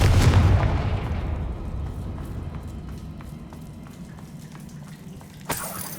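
Confringo blasting spell in Hogwarts Legacy: a loud, close explosive boom at the start that decays into a long rumbling tail, followed by scattered light clicks and a smaller burst near the end.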